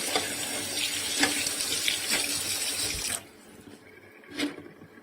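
Cold tap water runs steadily from a faucet into a sink while anchovies are washed, a loud continuous splash that cuts off after about three seconds, followed by a brief burst of water.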